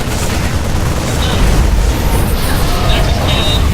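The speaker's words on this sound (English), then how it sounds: "Nexus cannon," A Nexus cannon fires in a StarCraft II match, heard as a dense, loud stretch of booming, crackling blasts with no clear gaps between them.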